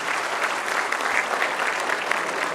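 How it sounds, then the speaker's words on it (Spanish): Applause from an audience at a Mexican presidential press conference, honoring three former presidents: a steady, dense wash of clapping, moderately loud and sustained without pause, with no speech over it. "Y yo quiero un aplauso a los 3 expresidentes de la República."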